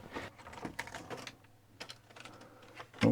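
Keys on an Amstrad CPC 6128 computer keyboard with a stuck, dirty space bar are pressed in a quick, uneven run of close plastic clicks, ending in a louder clack.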